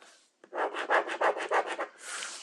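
A marker or chalk is drawn across trouser fabric in quick back-and-forth strokes, about seven rhythmic scratchy rubs close up, followed by a longer smooth stroke.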